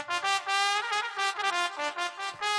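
Keyboard trumpet voice playing a brief bright brassy phrase of short repeated notes with a few held tones, moderately quiet and alone.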